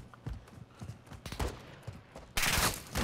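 Gunfire crackles in a Call of Duty: Modern Warfare II DMZ match, scattered shots at first, then a loud sustained burst of automatic fire near the end.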